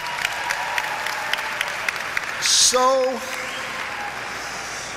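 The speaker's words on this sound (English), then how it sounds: "Let's give this place a big round of applause." Steady audience applause fills a high school graduation ceremony, with a crowd clapping throughout while a brief electronic tone or whistle sounds in the middle, followed by a voice starting to speak.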